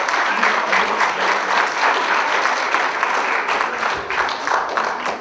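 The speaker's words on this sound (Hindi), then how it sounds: "बहुत जोरदार तालियों से इनका स्वागत कीजिए।" Loud, sustained audience clapping welcoming an actor onto the stage at a theatre performance of the play Angulimal, a thick wash of many hands holding steady throughout, with faint voices beneath.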